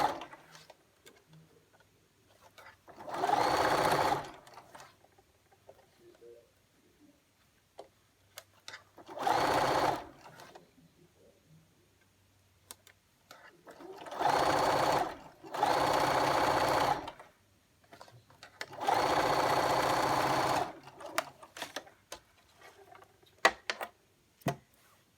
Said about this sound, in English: It's just a very narrow top stitching.